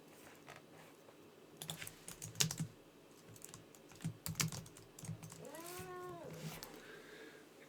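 A small cat lets out a short, rising-falling meow, with a softer trailing call after it, amid sporadic clicks of computer keyboard typing in a quiet room.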